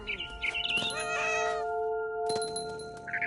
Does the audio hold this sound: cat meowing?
yes